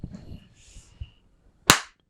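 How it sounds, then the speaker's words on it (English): One sharp, loud hand clap rings out close by after a moment of quiet, with faint murmuring before it. "Do clap."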